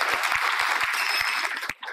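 Audience applause at a Shivratri special kirtan gathering in Khadak Malegaon, a dense steady clatter of many hands lasting nearly two seconds, with thumping low knocks and a brief drop near the end.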